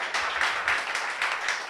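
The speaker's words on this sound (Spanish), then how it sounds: "Si tú quieres aplaudir al Señor, hágalo con libertad." A church congregation claps together in rhythm, steady pulsing applause at moderate volume with no voices on top.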